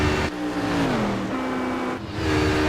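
Prototype race car engine heard from the cockpit in the iRacing simulator at Daytona, loud droning revs that drop between gear changes with brief shifts, no talk.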